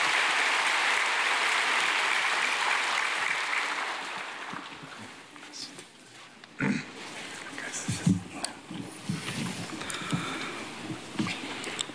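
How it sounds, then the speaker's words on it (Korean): Church congregation applause welcoming testimony speakers, steady and fairly loud for the first five seconds, then fading into scattered room sounds, shuffling and a few soft claps. "나오실 때 박수로 환영하겠습니다."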